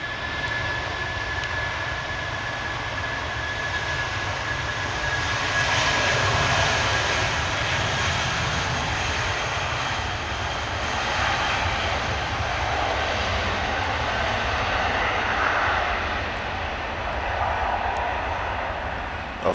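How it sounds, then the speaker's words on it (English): British Airways A320 jet departing from Manchester Airport, a sustained roaring engine rumble with a rising whine, heard from a distance and steady throughout, with no talking. "British Airways A320 going back down to London Heathrow."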